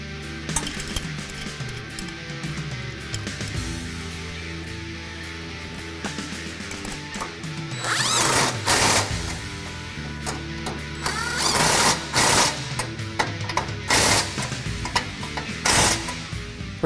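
A ratchet tightens the transmission mount nuts on a 2011 Ford F-150 3.5L EcoBoost, starting as a quiet mechanical hum before bursts of sharp clicking arrive in several rapid runs near the end.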